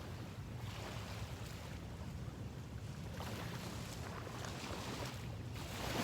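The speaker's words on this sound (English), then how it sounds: "I'm glad you love hearing the waves." Ocean waves washing onto the shore in a steady, continuous broadband roar, with a few slightly louder surges and some wind buffeting; no voices.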